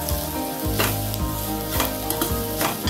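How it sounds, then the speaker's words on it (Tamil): Spice powders such as chilli and coriander sizzle in hot oil in a pan for a Tamil tomato kurma, with a steady loud fry and repeated scraping stirs at a regular pace and no talk. "நல்லா வதங்கட்டும் பச்சை வாசனை போற அளவுக்கு வதங்கட்டும்"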